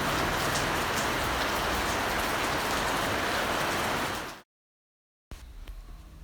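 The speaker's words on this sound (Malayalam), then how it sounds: "അപ്പോൾ മഴ നന്നായിട്ട് പെയ്യുന്നുണ്ട് അപ്പം ഭയങ്കര ശക്തിയല്ല എന്നാൽ അത്യാവശ്യം ശക്തിയുണ്ട്" Moderately heavy evening rain falls on a garden with potted plants, a dense, even hiss of drops close by that cuts out abruptly, leaves a second of silence, then returns more quietly.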